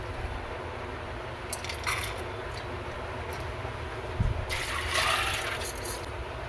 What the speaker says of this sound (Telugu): దీంట్లోకి ఒక గ్లాస్ వాటర్ వేస్తున్నాను